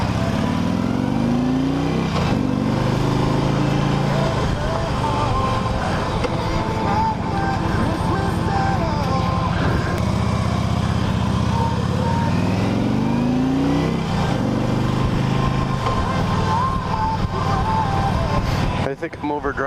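A 2008 Harley Davidson Ultra Classic Electra Glide is ridden on a cold winter road, its steady engine rumble and wind noise continuous and close throughout, with gear shifts and revs rising and falling, and someone talking over it.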